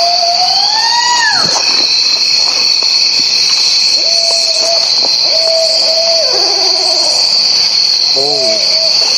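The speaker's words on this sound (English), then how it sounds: "Sounds like an owl. Oh, that ain't an owl." Owl-like hoots sound in a night recording said to capture Bigfoot, repeated falling and steady calls at a distance over a loud, constant chorus of crickets.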